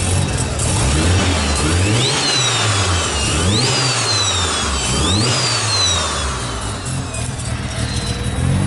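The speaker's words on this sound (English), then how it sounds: "I just want you guys to hear the turbo." Mazda RX-7 FD rotary with a turbo running in a garage, engine revved in three repeated rising-and-falling pulls with turbo whine climbing and falling, then settling to a loud steady idle.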